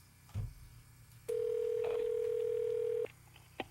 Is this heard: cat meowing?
no